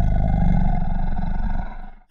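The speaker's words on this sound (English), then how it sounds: "There is a low, snorting growl." A deep, rumbling, snorting growl rolls on steadily for about two seconds, loud and close, then cuts off abruptly, the sound of a werewolf attacking.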